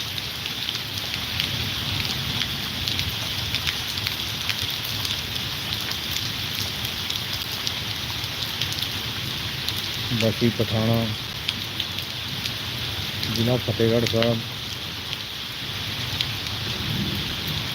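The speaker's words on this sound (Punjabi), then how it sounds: "ਬਹੁਤ ਭਾਰੀ ਬਾਰਿਸ਼ ਹੋ ਰਹੀ ਹੈ ਜੀ" Heavy rain pouring in Bassi Pathana, Fatehgarh Sahib, with roof water rushing down, a loud steady hiss and spatter that carries through the whole span while someone speaks briefly over it twice.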